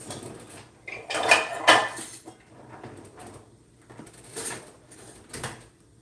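A plate is grabbed from a kitchen cupboard, with a few short ceramic clatters and knocks of dishes, close by in a quiet room.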